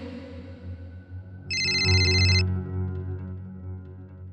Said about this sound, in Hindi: ये शीची अपना फोन तो यहीं छोड़ गए